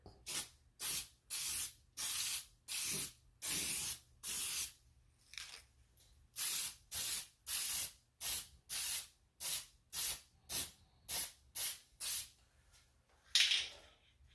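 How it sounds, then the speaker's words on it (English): Repeated short bursts of aerosol spray hiss, close and steady, spray painting a window frame in a bathroom, with brief pauses between sprays and no talking. "I'm just going to spray it."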